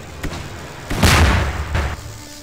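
Gunfire in a Star Wars clone wars roleplay video game, a couple of heavy booming blasts with a sharp initial crack and a second shot shortly after, fairly loud and close.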